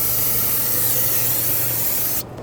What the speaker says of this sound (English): use brake parts cleaner to rinse it all down.